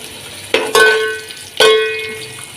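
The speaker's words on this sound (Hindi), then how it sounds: "तो यहाँ पर प्याज को हम सिर्फ नरम करेंगे" Onions soften in a pan for beef yakhni pulao, with two loud ringing metal clanks from a spoon striking the pan over a faint sizzle, each clank leaving a bright tone that fades slowly.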